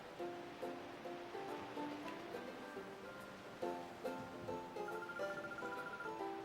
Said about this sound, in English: Wow, big brother, look, it's the sea.